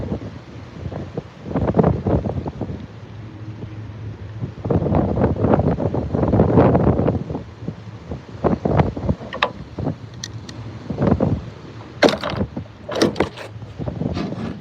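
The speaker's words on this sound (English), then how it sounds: "Can y'all hear the wind?" Gusty wind blows outdoors by the water near a boat, rising and falling in loud buffeting bursts with rumbling low-end swells, then easing into a steadier rush with brief sharp gusts toward the end.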